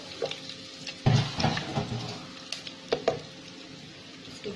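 Tadka tempering is poured into masala arvi fry and sizzles, with a sharp burst of frying followed by a few utensil clinks and softer crackling, close up and fairly quiet.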